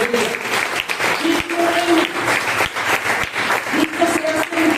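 A church congregation claps together in sustained applause during a sermon, dense and fairly close, with tonal voices or cheers rising over the clapping at moments.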